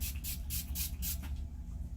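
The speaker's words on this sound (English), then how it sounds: "Now, I'm going to spray my face first with my Kopari Coconut Rose Toner" Kopari Coconut Rose face toner spritzed from a pump bottle in several quick, close hissing bursts, about four sprays in a steady rhythm, with no talking over them.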